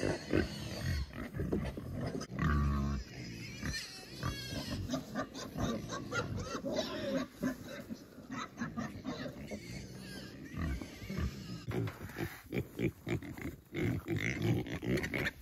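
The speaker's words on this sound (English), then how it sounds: "I'm just going to feed the pigs here first. Otherwise, they're going to be screaming this entire video." Farm pigs squeal and oink loudly at feeding time, a dense, constant chorus of overlapping shrieks and grunts from several animals close by, with clattering mixed in.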